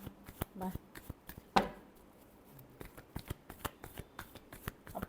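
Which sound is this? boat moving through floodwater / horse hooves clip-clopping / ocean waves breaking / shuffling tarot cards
shuffling tarot cards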